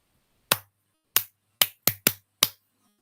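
Six crisp hand claps in an uneven rhythm, close and loud with silence between them, made for a counting game in a physical education lesson.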